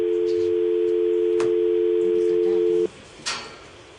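A steady telephone line dial tone hums loud and continuous for nearly three seconds, then cuts off abruptly, leaving a brief quieter pause before a short burst of noise.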